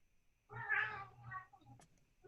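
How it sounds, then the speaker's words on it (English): A cat meows once in a drawn-out call, then gives a shorter second meow, fairly faint and distant against a quiet room during a township board meeting. "I hear a cat"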